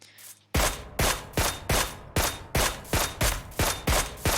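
Rapid bursts of gunfire in a PUBG Mobile competitive match, about a dozen sharp loud shots in a steady rhythm, heard alone without talk.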